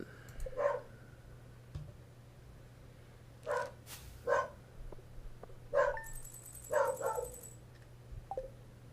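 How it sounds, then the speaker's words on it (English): In the Stardew Valley farm game, a dog barks outside: a few scattered sharp barks and yips spread over several seconds, with brief clicks and a steady low hum underneath. "Now, guy's outside barking."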